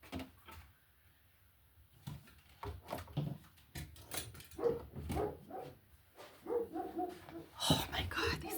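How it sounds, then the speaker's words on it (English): Stray dogs bark in short, sharp bursts, some close and some farther off, scattered irregularly and growing busier toward the end, with faint voices and household knocks mixed in. "Oh my God, these dogs."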